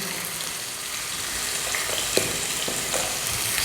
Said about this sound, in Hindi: उसके बाद अदरक लहसुन का पेस्ट